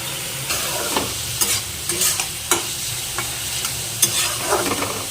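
Vegetables sizzling in hot oil with salt and turmeric for bread pockets, a close, steady fry broken by repeated scraping stirs of a spatula in the pan; no voices.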